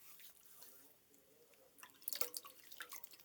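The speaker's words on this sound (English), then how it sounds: "Put your hands in the water and wash them." Hands splash and swish in a bowl of water, faint at first and then a burst of wet sloshing and dripping in the second half, close and quiet with no talking.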